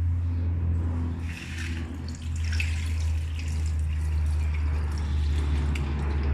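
Chocolate flavored dairy milk pours out in a continuous liquid trickle with occasional drips over a constant low hum, heard close and without talk.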